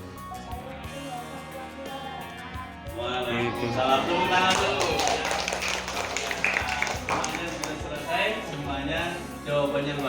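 Children in a classroom clap their hands: a quieter start with talking, then a burst of many hands patting rapidly together, near and sustained under voices.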